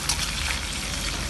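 Food fries in oil in a pan, a steady close sizzle with dense crackling spatter that holds at an even level throughout.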